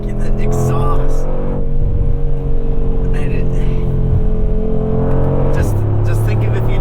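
A 2020 Mercedes-AMG G63 accelerates, its exhaust a loud, continuous droning roar that rises and shifts in pitch as the revs build, heard close up throughout.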